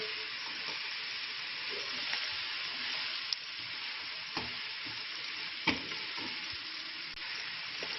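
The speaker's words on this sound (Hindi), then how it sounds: "इसको मज़ीद मैं 2 से 3 मिनट फ्राई करूँगी।" Capsicum frying in a pan for egg fried rice, a steady close sizzle with occasional sharp pops and stirring clicks, with no talking.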